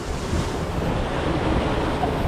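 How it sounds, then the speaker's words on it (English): Heavy rushing water from a ride waterfall at Energylandia amusement park pours and splashes continuously, loud and close, with a steady roar like falling water or breaking surf. "Oh, we got waterfalls."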